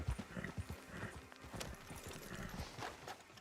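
Rhythmic clip-clop of horse hooves with a brief neigh, under faint background noise, from the video game Red Dead Redemption 2.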